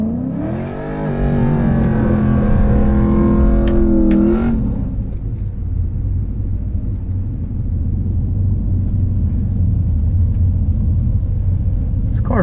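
A Chrysler 300 SRT8 launching from high RPM down a quarter-mile strip, a loud close engine roar climbing in pitch for a few seconds, then dropping to a steady rumbling drone as it pulls away.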